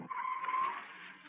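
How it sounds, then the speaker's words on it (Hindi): A car brakes hard and its tires skid with a sustained squeal lasting about a second, fading slightly as it ends, fairly faint and with no speech. "गाड़ी रोको"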